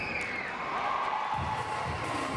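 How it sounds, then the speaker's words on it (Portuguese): Crowd cheering for a Hungarian gymnast on vault at a World Cup gymnastics event in March 2014, a steady broad wash of arena cheering and shouts that holds evenly loud throughout, with no talk over it. "Levantou a torcida, tem torcida para a húngara"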